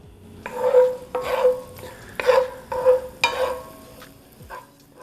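Chopped garlic sautéing in butter and oil in a pan, with a steady sizzle and repeated stirring scrapes coming in rhythmic bursts up close, and no talking.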